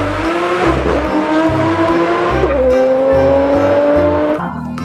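A toy race car sound effect plays continuously, a loud revving engine tone with rising and falling pitch, tire squeal and a steady thumping beat underneath, cutting off near the end.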